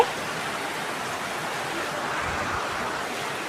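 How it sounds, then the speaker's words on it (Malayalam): Heavy rain falls outdoors as a steady, even hiss of broadband noise, unbroken and fairly soft, with no voices. "പുറത്ത് നല്ല മഴയുണ്ടേ"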